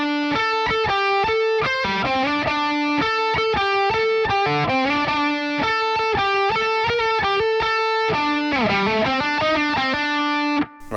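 Heavily distorted electric guitar works through an altered ending, with rapid picked note runs and a sliding segue near the end, loud and solo with no voices.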